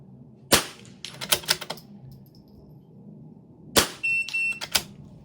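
Rimfire rifle shots ring out at steel targets during an NRL22 match stage: a sharp crack, a quick cluster of smaller clicks and impacts, then a second loud shot followed by a brief high metallic ring.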